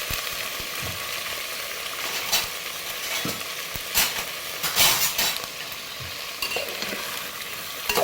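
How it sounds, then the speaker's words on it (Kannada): Washed brinjal, potato and field beans tossed into hot tempering with curry leaves for a Malnad-style field bean sambar, sizzling steadily up close while a spoon stirs and scrapes the pan in several bursts. "ಚೆನ್ನಾಗಿ ಫ್ರೈ ಮಾಡ್ಕೊಳ್ಳಿ"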